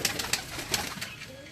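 Pigeons cooing close by, a few soft throaty coos repeating in a loose rhythm.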